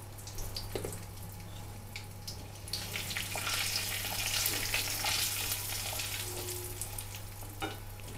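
Mustard seeds and asafoetida sizzle in hot oil for a tempering, a steady close hiss with scattered light pops and a few small utensil taps, over a low steady hum.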